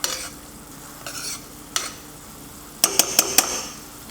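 Pork lo mein sauce stirred in a hot pan, a steady sizzle broken by a few scraping spatula strokes and a quick cluster of four sharp clinks near the end.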